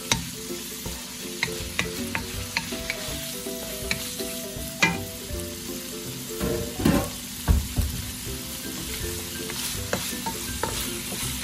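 Pork for pancit sizzles in a pan while being stirred, a steady frying hiss punctuated by regular scraping and clanking of the utensil against the pan, close and clear with no talk.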